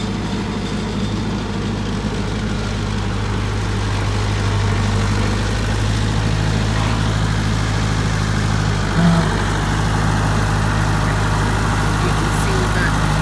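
A tractor engine with a front bucket runs steadily near a farm garage, a continuous low, heavy rumble holding even and close for the whole stretch.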